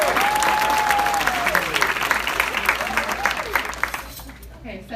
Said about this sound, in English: can we give Lori a round of applause